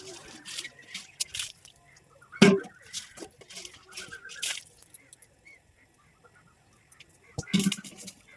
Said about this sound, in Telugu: తెచ్చుకోవాలని ముందు బిందె కడిగేస్తున్నా.